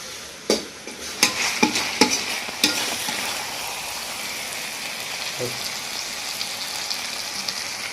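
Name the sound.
stir-frying meat with spices (kosha)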